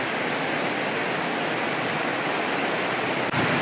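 A creek on Vancouver Island's Alberni Valley, swollen by snowmelt and torrential rain, rushes toward a waterfall in a constant broadband roar, loud and close, with no voices.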